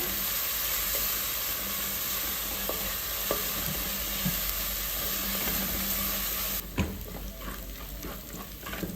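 Ginger, garlic and green chillies frying in oil for a Kerala fish head curry, a soft continuous sizzle and hiss with a few faint spoon taps, turning quieter and more crackly near the end.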